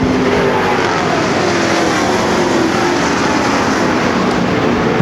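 Race cars at Ogilvie Raceway in the 2011 Topless Nationals roar steadily past, a loud continuous engine drone with a slight pitch sweep from a passing car.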